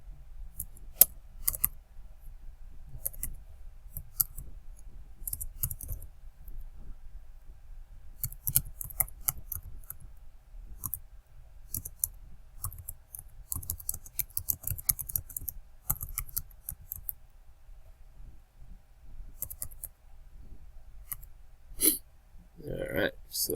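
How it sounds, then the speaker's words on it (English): Typing on a computer keyboard while setting up a router configuration, sparse clusters of light clicking keystrokes in short bursts with pauses between them, quiet and close, with a person speaking at times. "so I'll just type it in."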